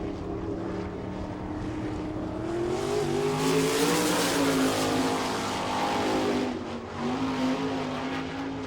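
Sprint cars on qualifying laps at the All Star Circuit of Champions in Rossburg, Ohio, a loud engine roar swelling as a car passes close through the turns, then dropping back to a steady drone.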